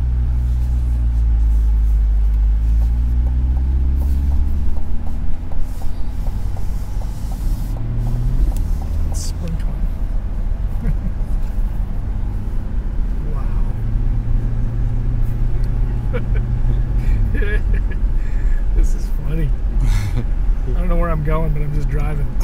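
Brand-new 2024 Corvette C8 Stingray Z51 pulling away, a deep engine drone rising and shifting in pitch from inside the cabin, with people talking over it throughout.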